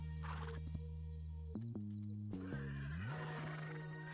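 A horse whinnies and neighs in the video game Hytale, a loud, drawn-out call with pitch steps that swells, breaks, and rises again over a steady low ambient drone, with no talking.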